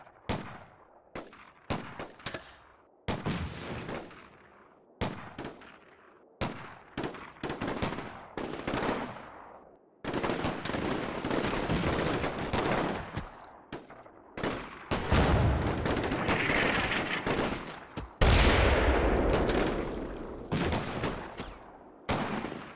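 Troops open fire in a military video game, bursts of rifle and machine-gun fire, sharp and close, starting as short separated volleys and building into dense, continuous firing with heavier booms toward the end.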